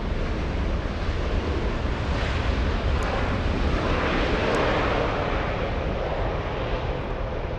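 An American Airlines jet arriving from Tokyo Haneda lands at LAX with a broad, steady roar of engine and rushing air, loud and continuous throughout with no talk.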